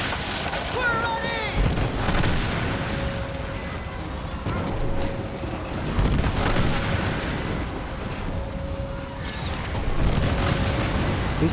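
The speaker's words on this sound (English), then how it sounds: "These cannons pack a punch" Ship cannons fire in the Skull and Bones naval video game, booming blasts recurring every couple of seconds beneath steady game noise and a sustained tone, with talk at times.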